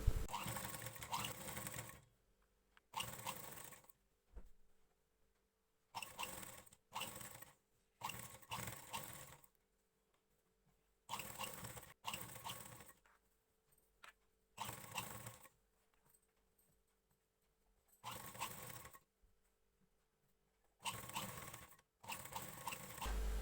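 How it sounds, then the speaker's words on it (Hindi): A sewing machine stitches a folded-in blouse neckline in short bursts of steady rapid whirring, about a dozen runs separated by near-silent pauses, close and with no voice. "अब हम गले को इस तरह से अंदर की तरफ फोल्ड करते हुए इसके ऊपर सिलाई लगाएंगे।"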